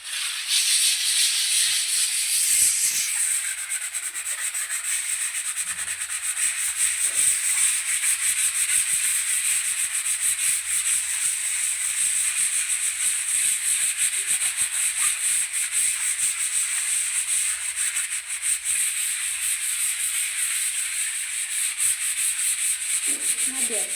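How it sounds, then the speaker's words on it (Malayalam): Steady, even scraping rub of putty being worked gently over a cracked plaster wall, a continuous hiss-like abrasion held at a constant level throughout with no voices. "അധികം അമർത്തി വരയ്ക്കണ്ട നൈസായിട്ട് പതുക്കെ വരയ്ക്കുക"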